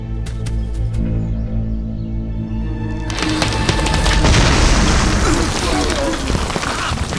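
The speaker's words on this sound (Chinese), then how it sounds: "这种果实在成熟期极易发生爆炸，其威力足以杀死一匹斑马。" A movie sound effect of an exploding jungle fruit: a low droning hum gives way at about three seconds to a loud, broad bursting blast, followed by a sustained crackling, rain-like wash of debris.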